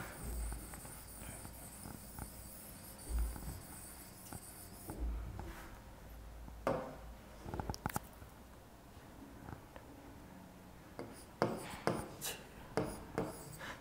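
Chalk or marker scratching and tapping against a board as a question is written during a geometry lesson, in faint intermittent strokes that grow busier near the end, with no talk over them.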